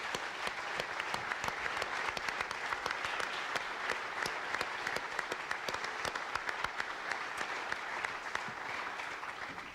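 A room of supporters gives a sustained round of applause for Iowa State football coaches and their families at an evening gathering, dense steady clapping throughout with no talk over it.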